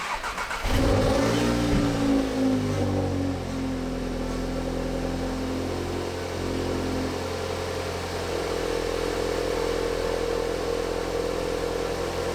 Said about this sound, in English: whilst the car is warming up